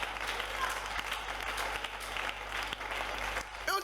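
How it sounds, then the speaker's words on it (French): A church congregation claps loudly together in steady acclaim for the Lord for a few seconds, the dense applause continuing to the end. "On acclame le Seigneur."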